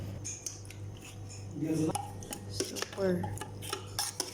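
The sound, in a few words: mixing buko salad with cream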